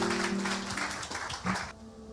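A brief burst of applause welcoming a preacher at a Christian gathering, with clapping that fades out over held tonal sounds.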